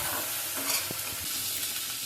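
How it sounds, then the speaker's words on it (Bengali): Green chili, ginger and garlic paste fries in a pan for a fish curry with potatoes and brinjal, giving a brief, steady close-up sizzle with a few soft stirring scrapes. "কাঁচামরিচ আদা রসুন বাটাটা দিয়ে ভালোভাবে ভেজে নিব।"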